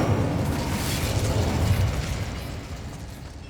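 Incendio fire spell cast in Hogwarts Legacy, a loud, dense rushing burst of flame roaring steadily for a few seconds before tapering slightly, with no talking.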